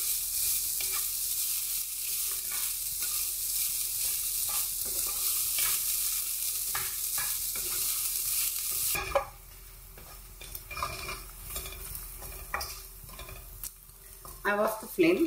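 Coconut masala roasts in a pan with a steady sizzle and constant stirring scrapes for about nine seconds, then the frying hush drops away, leaving scattered utensil clinks and scraping.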